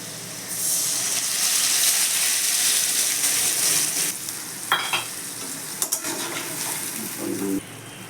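Turmeric, cumin and chilli paste hits fried potatoes in hot oil with a loud, steady sizzle, followed by a few sharp clinks and scraping stirs as the sizzle settles.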